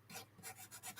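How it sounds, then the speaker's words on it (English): Hand sanding of wood for a hammered dulcimer, a few quick rasping back-and-forth strokes, close and faint. "So now I'm just going to do some sanding of this thing"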